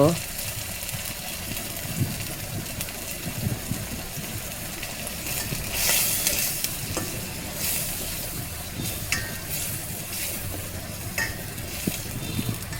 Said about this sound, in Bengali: তেলের মধ্যে মশলাগুলো ভালো করে কষিয়ে নেব।